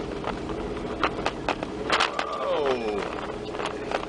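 A car creeps up a steep driveway in first gear, its engine whining and rising in pitch under strain, with scattered clicks and bumps and voices talking over it.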